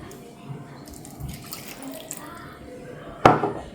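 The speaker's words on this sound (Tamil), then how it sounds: "உடனே நம்ம கொஞ்சமாக தண்ணி ஊற்றிக்கலாம்." Water is poured in a short, faint splash into a grinder jar holding turmeric and coconut for grinding, followed by a sharp, close clunk of the jar near the end.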